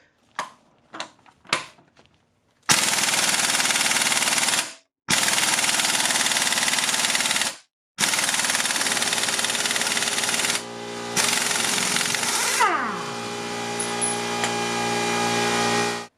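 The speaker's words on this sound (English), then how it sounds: "I finally got it off with this old impact that I have, which goes up to about 500 foot-pounds of torque max" An air impact wrench on a compressor line set to 110 psi, rated about 500 foot-pounds, hammers at a crankshaft bolt on a 2004 Honda Pilot: a few short taps, then several long, loud rattling bursts separated by brief pauses.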